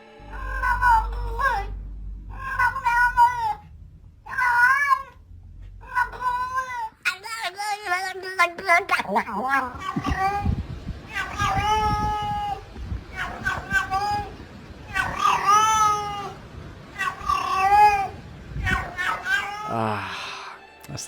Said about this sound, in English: My personal favourite type of cat video are those where they make silly noises.